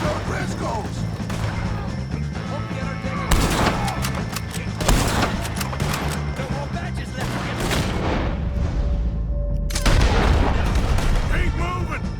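Gunfire rings out in a Red Dead Redemption 2 shootout against the O'Driscolls: several loud, sharp shots crack at irregular intervals over a busy background of game noise and voices.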